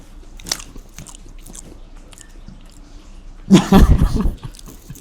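Crispy double-fried french fries being bitten and chewed up close, a burst of loud crunching arriving after a few softer earlier bites and rustles.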